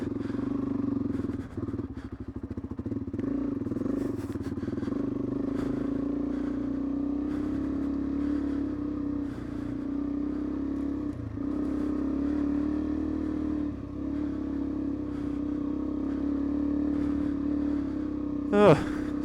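Suzuki DRZ400E dirt bike riding a bush track, a steady close single-cylinder engine drone with slight throttle shifts and rattles throughout, ending in a brief sharp rev.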